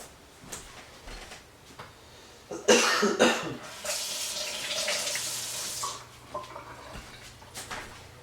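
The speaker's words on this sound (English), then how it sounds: "I'm gonna rinse it off." Tap water runs into a kitchen sink to rinse food, a steady broadband wash lasting several seconds with clattering handling sounds before it and faint rustles after, no talk over it.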